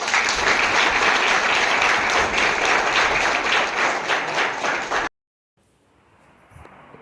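A poetry-recital audience in Hoovina Hadagali bursts into loud, dense applause for poet Nagamanjula Jain, sustained steady clapping for about five seconds before cutting off abruptly into near silence with faint room noise.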